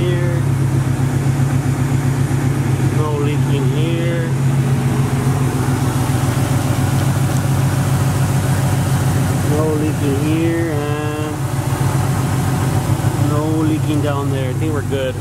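A 2009 Chevrolet Silverado single-cab pickup engine idles with a steady, close, low droning hum that runs unbroken throughout, while people talk over it.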